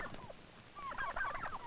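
Faint, warbling turkey gobbles ring out in quick bursts on a poultry farm, a few birds calling over each other at a distance.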